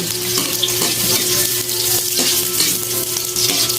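Tofu (tokwa) fries steadily in a pan with garlic, a continuous loud sizzle and crackle running the whole time, broken by a few soft utensil scrapes; no voices.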